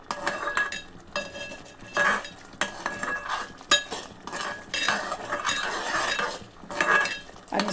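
A spoon stirring and scraping fried masala for misal in a metal pan, with repeated clinks and a soft sizzle in irregular bursts, close up with no voices.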